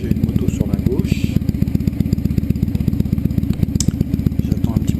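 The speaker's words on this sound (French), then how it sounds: "j'ai une moto sur ma gauche" A motorcycle engine idles close by, with a steady low pulsing throb in city street traffic in Lyon while a person waits on a bicycle, and a voice talks over it.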